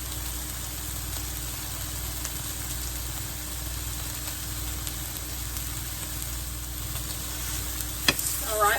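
Food fries in a lightweight pan on a stovetop, giving a steady, even sizzle that carries on without a break, with a couple of brief clinks near the end.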